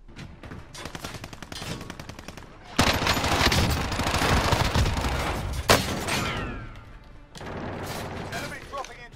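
A new SMG fires in Call of Duty Warzone Cold War Season 2: rapid automatic bursts, loud and close, with a longer sustained burst in the middle and shorter bursts around it, mixed with game effects.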